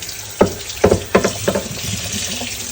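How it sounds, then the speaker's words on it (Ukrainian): A cutting board being rinsed under running tap water: several close, splashy bursts of water come in an uneven rhythm over a steady flow, with no speech. "І тепер беремо під водичкою змили."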